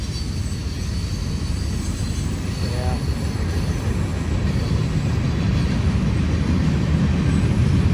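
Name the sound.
train wheels squealing metal on metal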